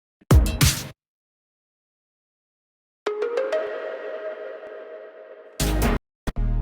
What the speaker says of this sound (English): I found a cool like mallet and then just loaded that in.